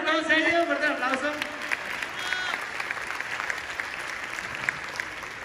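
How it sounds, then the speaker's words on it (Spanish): A comedy show crowd claps steadily and fairly loudly throughout, with a voice calling out over the start and chatter mixed into the ongoing applause. "Fuerte el aplauso para todos, serio."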